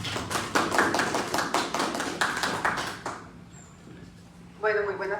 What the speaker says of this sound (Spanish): damos la bienvenida a la Magíster Arias con fuertes aplausos